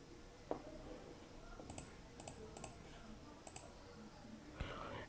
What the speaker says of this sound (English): click on delete.